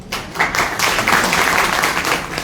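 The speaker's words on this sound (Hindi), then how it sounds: "शानदार तालियां होनी चाहिए मैम के लिए" Steady, loud applause from an audience at an IMC business meeting, many hands clapping together with no break and no voices on top.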